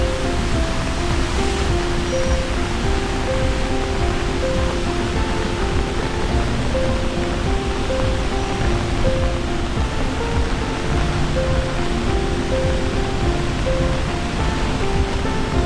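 Girmal waterfall in the Dang district, a continuous loud roar of rushing, falling water, steady and broadband from start to finish with nothing else standing out.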